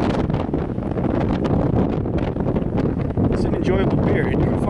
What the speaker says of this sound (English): this wind is kicking my ass